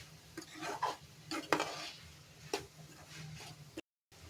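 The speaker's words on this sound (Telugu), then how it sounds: "అటు ఇటు కలపాలి." A spoon stirs a potato roast with spices in a pan, giving a handful of scattered scrapes and clinks at close range, quiet overall and breaking off into silence near the end.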